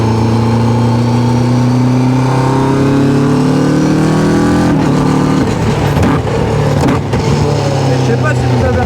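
A loud, near Caterham 485 S engine revs and drones steadily on a race track, its pitch sliding as it accelerates and shifts, with some rattling noise midway.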